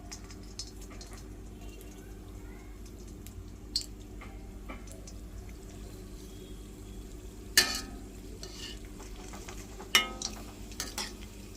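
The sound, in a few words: frying coconut dumplings in oil on low flame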